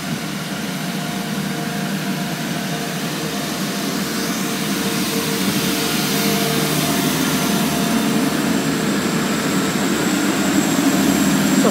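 A Class 175 diesel train pulls out of Manchester Oxford Road station on its way to Manchester Airport. A loud, steady engine roar and rumble builds gradually and fills the whole stretch.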